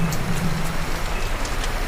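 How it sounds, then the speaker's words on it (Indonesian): Steady rain falling at night on a street during flooding, a continuous dense patter with a low rumble of passing traffic beneath, no voices. "Malam-malam hujan begini."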